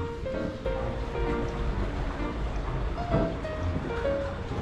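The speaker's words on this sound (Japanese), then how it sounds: "おー、川流れてる" Shallow river flowing through Rouen, France, a steady rushing wash with outdoor wind noise and faint tonal background sounds from the nearby street.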